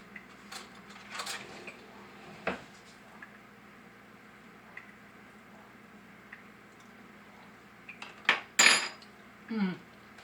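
Parmesan dressing mixed in a bowl with a utensil, giving quiet scattered scrapes and taps against the dish and a few sharper clinks near the end, close but soft.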